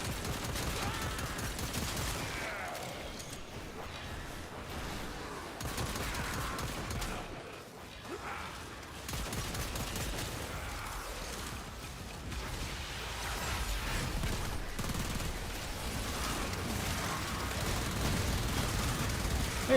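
Sustained machine gun fire and scattered shots in a multiplayer shooter video game, a dense continuous clatter with a brief lull midway, loud and close, with faint voices in the background.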